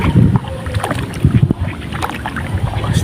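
Gusty wind rushes and buffets loudly against the microphone outdoors by a river, with rough, uneven bursts of noise throughout.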